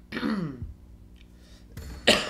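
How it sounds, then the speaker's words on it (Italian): A throat clearing with a cough, heard up close during Strange Brigade gameplay commentary: a rough rasping burst, a short pause, then a second sharper cough near the end, with no talk over it. "Bella la tosse, bella."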